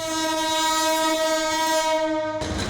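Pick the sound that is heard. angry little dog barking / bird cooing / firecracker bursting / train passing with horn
train passing with horn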